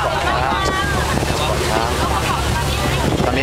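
A passenger boat carrying students cruises on a river in Chiang Rai, with heavy wind buffeting the microphone and a steady rush of water and engine noise throughout, loud and close.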